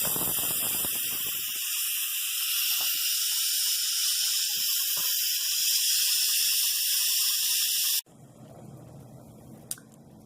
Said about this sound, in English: it's all done cooking, so we're going to do a quick release